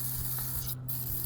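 A quiet, short hiss of WD-40 sprayed onto rusted screws on a Chevrolet Impala battery mount, faint over a low background hum.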